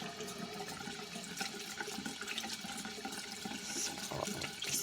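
Hot water runs from a bathroom tap in a steady, close splashing stream with a bright hiss, continuous throughout and without voices.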